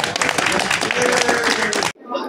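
An audience at an office opening event applauds in a dense, loud burst of clapping that cuts off abruptly, followed by a brief voice.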